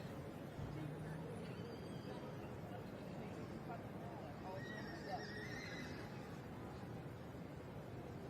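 Welsh Section B junior pony mares in a show ring at the Royal Welsh Show, with a whinny and some hoof clops heard faintly beneath a commentator's voice and crowd babble.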